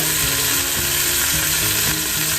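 Garlic hits a hot pan for a lentil stew and sizzles loudly and continuously, a dense, close frying hiss with faint rattling underneath.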